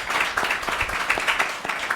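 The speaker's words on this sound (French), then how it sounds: "On va l'applaudir très fort." Brief applause for a guest at an entrepreneurship jury visit in Burkina Faso, a small group clapping in quick, uneven bursts at close range, lively and short.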